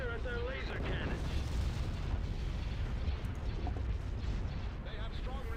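Laser cannon blasts and rumbling explosions fill a Star Wars space battle video game, a dense continuous barrage of booms and zapping shots with voices talking over the noise.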